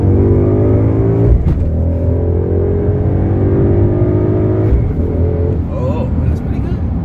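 A 2017 Ford Mustang GT accelerates during a test drive, its engine note rising steadily and loudly from inside the car, with a brief dip at a gear change and people talking over it.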